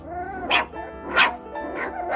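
Mini Goldendoodle puppies bark outdoors, three or four high, yappy barks spaced roughly every half second, close and fairly loud with no talking.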